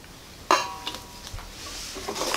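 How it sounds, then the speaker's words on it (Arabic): Chocolate cake batter of beaten eggs and oil is mixed in a bowl, opening with a sharp utensil clink against the rim followed by softer scraping and a few light taps, close up. "كنخلطو الخليط ديالنا"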